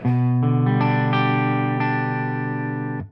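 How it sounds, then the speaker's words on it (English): Distorted electric guitar riff, loud and sustained with dense harmonics, chords re-struck a few times before ringing out and cutting off near the end. "the distortion guitar kicks back in"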